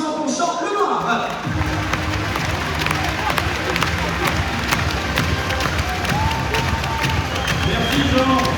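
A crowd at a women's club season-end ceremony applauds and cheers, dense continuous clapping with shouts and whoops, loud and sustained throughout.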